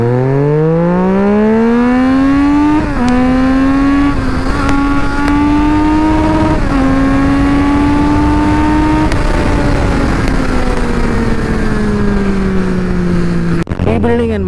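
A motorcycle engine hums loud and steady at a college auto expo, its pitch climbing slowly and then easing back down, with no talking over it.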